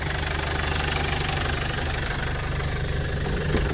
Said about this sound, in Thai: เครื่องนิ่มใช้ได้เลย ไม่มีหลวมครับ